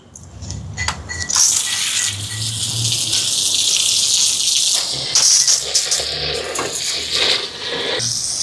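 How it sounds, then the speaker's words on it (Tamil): Water gushes steadily into a pot of washed lentils during cooking for a large communal chicken meal, a close, loud, continuous splashing pour lasting several seconds. "பருப்பு வச்சுட்டு தண்ணி எடுப்போம்."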